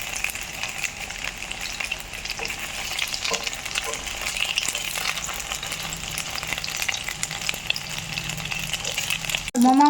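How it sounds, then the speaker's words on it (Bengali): Momos deep-frying in hot oil, a close, continuous crackling sizzle with bubbling texture and occasional stirring, ending in a brief clatter. "তেল দিয়েছি, আমি মোমোটা ভেজে নেব।"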